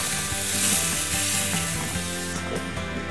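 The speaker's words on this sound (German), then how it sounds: "die Ananasstücke werden auf dem heißen Grill von beiden Seiten für ca. 2 bis 3 Minuten gegrillt" Pineapple pieces sizzle on a hot grill at about 250 degrees, a steady close hiss that runs throughout under a layer of background music.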